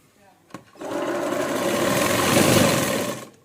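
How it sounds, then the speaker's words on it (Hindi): A sewing machine runs steadily for about two and a half seconds while stitching the lining onto a blouse, a continuous mechanical whir preceded by a brief click. "आधा इंच का मार्जिन रखते हुए हम नीचे की तरफ सिलाई लगाएंगे ब्लाउज को"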